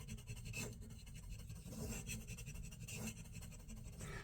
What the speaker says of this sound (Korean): 종이 긁는 소리가 많이 나죠